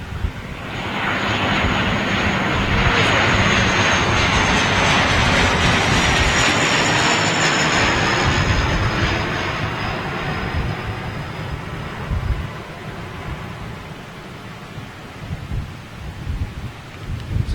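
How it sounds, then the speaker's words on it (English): A jet aircraft roars low overhead at Boston Logan airport, loud and close, with a sustained engine rumble and whine that slowly fades after about ten seconds. "That aircraft has gone right over."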